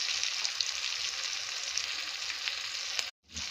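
Onion, chilli and tomato masala with turmeric added frying in a pan gives a steady, close crackling sizzle that cuts out abruptly near the end before resuming.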